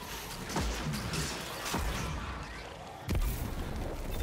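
Shotgun and grenade launcher fire in a video game, heard as three sharp, heavy blasts spaced about a second apart over a constant background of game noise.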